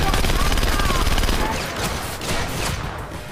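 Dense gunfire in the stealth action game Splinter Cell: Conviction, a loud rapid burst of shots that eases slightly but keeps rattling, with a voice speaking over it.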